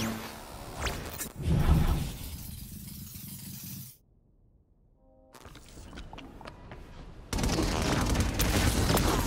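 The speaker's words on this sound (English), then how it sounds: "Fireworks, man!" Video game fireworks in inFAMOUS Second Son: a burst of crackling, popping explosions, then near silence with a faint tone, followed by renewed rapid crackles and a loud sustained barrage of fizzing bangs.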